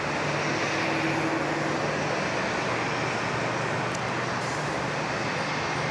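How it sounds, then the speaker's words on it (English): Jet noise at Sydney Airport as a Korean Air Boeing 787 pushes back from its bay, a steady broad roar with a constant engine whine, heard alone and unbroken throughout. "the Korean Air 787 is pushed back out of bay 9"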